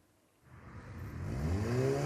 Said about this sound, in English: cars and motorbikes with adapted exhausts were roaring up the esplanade in the early hours